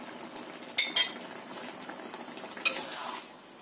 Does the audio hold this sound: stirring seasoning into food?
yes